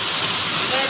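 Heavy first monsoon rain of early June pouring down in a village, a dense continuous roar close by with no break, drowning out other sounds.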